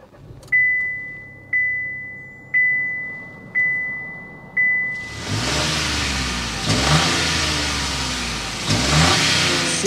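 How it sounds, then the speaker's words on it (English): Five evenly spaced chimes ring out, then a 2024 Chevrolet Trax 2RS engine starts and settles into a loud, rumbling exhaust note with rising revs. "start it up, so you can hear that exhaust note"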